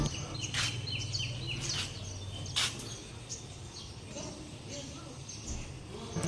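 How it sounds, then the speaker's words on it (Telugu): Several birds chirp in short bursts in the early morning over a low outdoor rumble, the calls scattered and moderately distant. "early morning Pittala sound"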